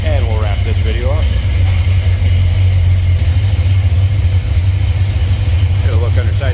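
A 1962 Ford Fairlane two-door post with a 302 V8 idling with its hood open, a loud, steady low rumble that runs throughout, with faint chirping from the surroundings above it.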